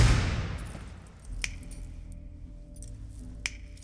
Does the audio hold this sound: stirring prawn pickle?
no